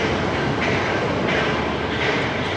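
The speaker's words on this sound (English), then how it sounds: "I see we also have the Toei subway line here." A Toei subway train passing through Tokyo, a continuous loud rumble with the rushing, clattering wash of the cars going by at close range.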